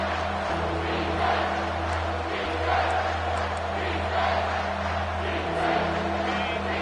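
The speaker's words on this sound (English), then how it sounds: "The crowd getting behind this defense as they try to get a stop in the red zone." Football stadium crowd at a Penn State at Ohio State game roars steadily behind the defense in the red zone, a dense, sustained wall of cheering and hubbub heard from a distance for the whole stretch.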